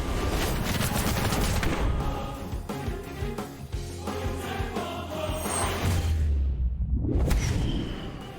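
Feather Gatling attack in the Temtem video game: a dense, continuous barrage of rapid-fire bursts and whooshes, loud and close, running nearly the whole time before a brief sweeping lull and a final rush.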